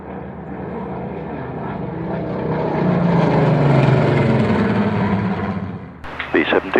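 B-17 bomber propeller aircraft flying at an airshow, a droning multi-engine piston roar that swells as it passes and then fades, with a voice speaking at the end.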